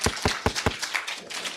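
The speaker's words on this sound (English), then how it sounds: "Give them a round of warm applause, please" Conference audience claps after a session: a few sharp, distinct hand claps open the burst, then blur into a thinner smattering of applause that tapers off within about a second and a half.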